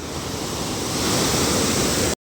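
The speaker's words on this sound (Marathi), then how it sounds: "ही आहे पंपा नदी आणि हिला दक्षिणेची गंगा असं देखील मानलं जातं पाण्याला जबरदस्त असा प्रवाह आहे" The Pampa river rushes with a strong current, a loud, steady roar of flowing water filling the whole stretch without voices before cutting off abruptly.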